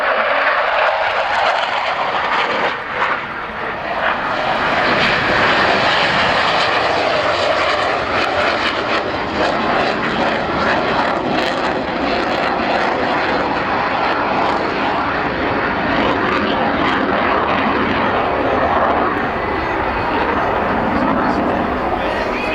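French Navy Dassault Etendard carrier strike jets make a close pass at Yeovilton Airday 2015, one slow and one with gear down. Their loud, steady engine roar fills the whole stretch, with an announcer talking underneath.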